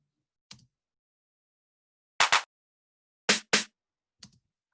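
Sparse tech house drum hits: a short snare-like tap, then two pairs of sharp, bright clap bursts close together, and a final light tap, each crisp and isolated against silence.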